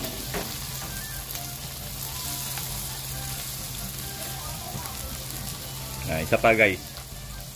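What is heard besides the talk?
mixed vegetables sautéing with onion and garlic in a pan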